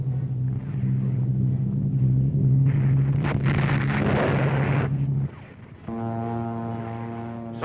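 Wartime bombing in North Africa, 1943: salvos of bombs bursting into a loud, rumbling roar over a steady low drone, with no voices.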